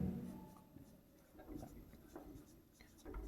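Pen or chalk scratches across a board during an accounting lesson, coming in short irregular strokes close by, with a teacher's voice faintly in the background.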